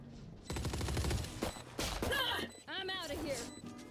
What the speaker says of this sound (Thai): เฮ้ยมันยิงระวังนะ